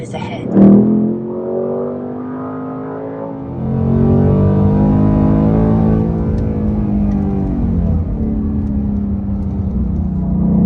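A 2024 Ford Mustang GT with a 5.0 Coyote V8 pulls hard from inside the cabin, a loud, deep engine note climbing through the revs with a brief shift dip, sustained to the end.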